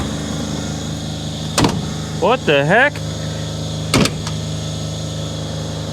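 A Wildfire car lift raises a car with a steady electric motor hum throughout, while a man briefly exclaims over it and a couple of sharp clunks ring out.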